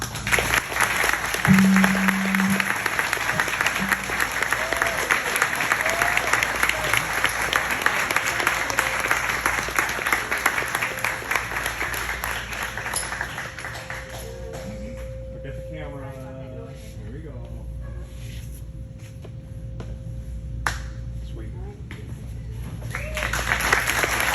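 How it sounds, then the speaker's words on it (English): Sustained applause from a crowd at an award presentation fills most of the stretch, then thins to scattered claps and room noise with a faint steady tone. "join me in congratulating and giving a warm round of applause"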